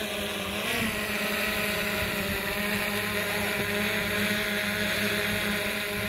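Four drone motors run at a steady, close, high-pitched whine on a drone that carries a 360-camera gimbal, with a broad constant buzz and a faint wind-like hiss.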